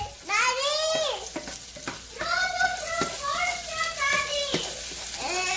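Chicken pieces frying for curry until golden brown, a soft sizzle running underneath a child's and adults' chatter that dominates throughout.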